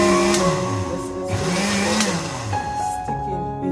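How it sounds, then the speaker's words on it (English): Cucumber pieces, washed and cut, churn in a blender, the motor whirring loudly with pitch that dips and rises as the load shifts, broken by a couple of brief stops and restarts. "I will then put the cucumber, which is already washed and cut, first in the blender. I'll partially blend this."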